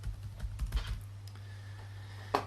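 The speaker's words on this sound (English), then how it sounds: "You're so bad at typing." A short flurry of computer keyboard clicks, close and moderately loud, then a pause over a steady low hum before one sharp final keystroke; no one speaks.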